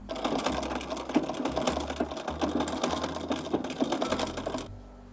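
A vintage sewing machine stitches fabric in a fast, steady mechanical rattle with faint thumps, close and fairly quiet, running for about four and a half seconds before stopping.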